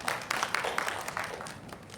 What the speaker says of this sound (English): A big round of applause for the sir.